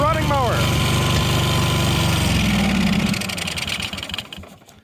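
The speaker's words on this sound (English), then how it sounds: "Houston, we have a running mower." Neglected 1998 Yazoo YTKC22 three-wheel mower engine running close by with a rough, loud chugging drone that fades away toward the end, a voice speaking briefly over it at the start.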